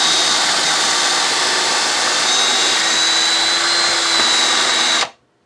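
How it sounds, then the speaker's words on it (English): A power drill bores pocket holes through a Trend PH/JIG pocket hole jig with hardened steel guides, a loud, steady high-pitched whine held for about five seconds before cutting off sharply into silence. "then literally drill your hole"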